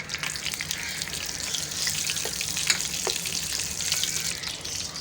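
Cumin seeds and whole round dried red chillies fry in hot oil for a kadhi pakora tadka, giving a dense, continuous close-up sizzle with no talking.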